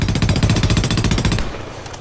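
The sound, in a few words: M4 rifle gunfire in Homefront video game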